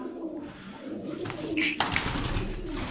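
American Show Racer pigeons coo in low, throaty rolling calls, close by, with some rustling and a brief higher chirp mixed in.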